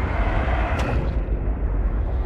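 Deep, steady underwater volcano rumble in Subnautica: Below Zero, a loud continuous low roar filling the whole stretch with a brief brighter burst near the start.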